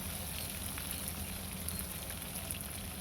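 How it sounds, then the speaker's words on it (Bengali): Fish frying in oil in a pan on a home kitchen stove, a steady close crackle and hiss with fine popping that continues evenly throughout, heard alone without voices. "এই যে অন্য চুলাতে কিন্তু আমি মাছ ভেজে নিতেছি"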